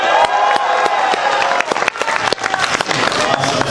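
Large convention audience at a Capcom panel at New York Comic Con 2012 breaks into loud, sustained applause with shouts and whoops, dense clapping filling the room throughout.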